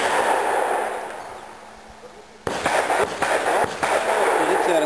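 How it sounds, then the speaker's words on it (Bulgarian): Pistol shots go off during IPSC shooting training, a few sharp cracks in quick succession on a range, loud and close over constant background noise. "вадене, double action или вадене и два последователни изстрела"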